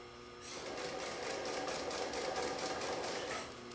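A sewing machine stitches marine chair upholstery, a loud rapid mechanical chatter starting after a brief quiet moment and running steadily to the end.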